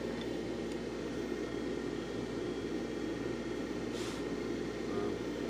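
A blower runs with a constant, even rushing hum that stays at the same level throughout, with a brief higher hiss near the end.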